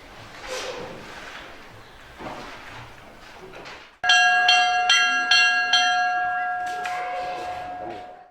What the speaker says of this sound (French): la cloche annonce la fin des cours